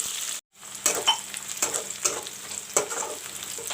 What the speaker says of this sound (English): fry the onions till golden brown